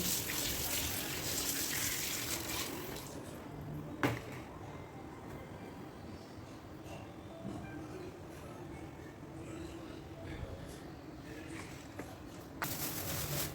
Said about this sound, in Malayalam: അതിന് വേണ്ടിയിട്ട് നിറയെ വെള്ളം ഒഴിച്ച് വെക്കുന്നുണ്ട്